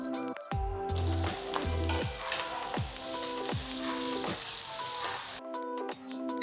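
Onions and green chillies fry in a pan during preparation of a Kerala-style prawn dish, with a continuous sizzle and repeated scraping stirs of a utensil against the pan, close and clear with no voices.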